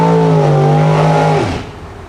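A Pro Mod drag racing street car runs loud and close at the track during Goodyear tire testing, its engine holding a high harmonic howl before the pitch drops sharply and fades.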